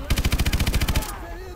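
Rapid automatic machine gun fire in Call of Duty: Advanced Warfare, a loud, even burst of about fourteen shots lasting around a second, followed by a brief fading tail.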